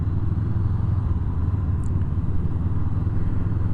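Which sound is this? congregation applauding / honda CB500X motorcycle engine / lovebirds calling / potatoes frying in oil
honda CB500X motorcycle engine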